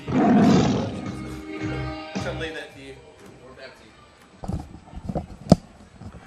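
Crowd at a Troup High School Tiger football game, a loud swell of cheering that fades into a broad murmur with scattered shouts and a sharp bang near the end.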